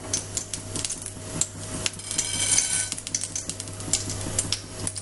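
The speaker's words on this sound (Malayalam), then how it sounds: "കടുക് പൊട്ടിക്കഴിഞ്ഞ്" Mustard seeds crackle and splutter in hot coconut oil in a pan for a Kerala red spinach stir-fry, a dense run of sharp pops and clicks with metallic pan clatter, steady and close with no talk.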